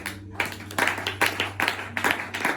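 Church seminar audience clapping to acclaim Jesus, a burst of scattered applause with broadband claps pulsing over a steady low hum, fairly near and moderately loud, with no talking.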